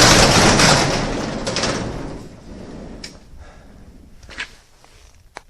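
Shop door being opened, a loud sliding rush that fades, followed by a few faint knocks and clicks nearby.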